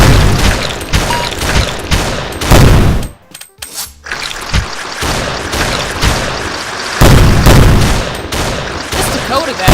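Cartoony retro-style gunfire from the zombie shooter game Zombie Grinder, loud and dense with rapid bursts and booms, a brief near-silent gap midway before the shooting resumes.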